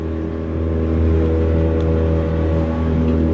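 Steady, loud drone of a 300hp outboard motor at full throttle on a 24 Edge boat out on the water: a constant, tonal whine that holds level and rises slightly, close by, with no voices.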